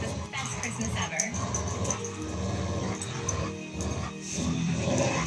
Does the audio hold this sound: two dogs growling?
yes